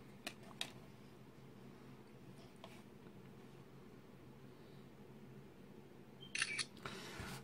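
A few sharp phone camera shutter clicks on a OnePlus 2 against a quiet background hiss, with a quick burst of fast-shutter clicks near the end.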